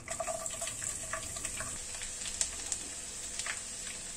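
Four finely chopped garlic cloves frying in butter in a pan give a steady, close, hissing sizzle that runs without a break under a few faint clinks.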